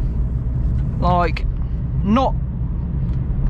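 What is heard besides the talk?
Vauxhall Corsa car driving at night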